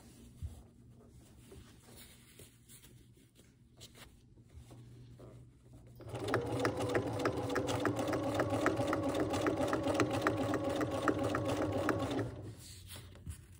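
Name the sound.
Bernina sewing machine sewing cloth pad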